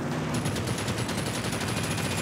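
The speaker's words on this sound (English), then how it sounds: "these auto cannons are freaking beautiful" Rapid auto cannon fire from the video game Rage 2, a dense, continuous stream of shots sustained and loud across the whole stretch with no pauses or talk.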